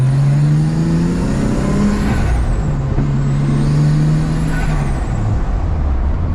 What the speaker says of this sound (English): The car sounds great, dude.